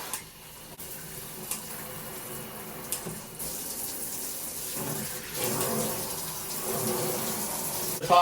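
A handheld shower head on its mist setting sprays a fine, hissing stream of water, steady and fairly quiet, shifting in intensity as the spray moves.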